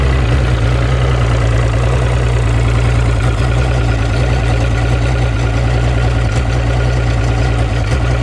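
A 200 HP motor idles steadily and rough, a loud, continuous low throb with an uneven beat running the whole time, close by and with no voices.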